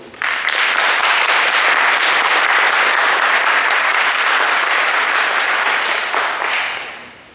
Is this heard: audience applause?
yes